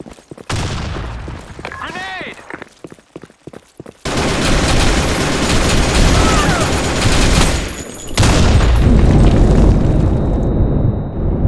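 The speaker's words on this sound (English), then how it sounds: "Grenade!" A grenade goes off in a capture-the-flag shooter game: scattered crackling shots first, then a sudden loud, sustained blast with rumbling debris and a second surge of noise a few seconds later.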